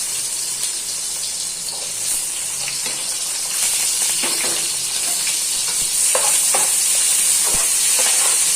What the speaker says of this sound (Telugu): ఇప్పుడు దీంట్లో ఫస్ట్ ఆనియన్స్ వేసుకుంటున్నాను